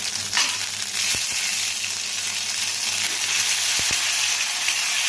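Bay leaf, garlic and garlic paste fry in a hot pan for egg curry, making a loud, continuous close-up sizzle broken by a couple of brief utensil clicks, with no voices.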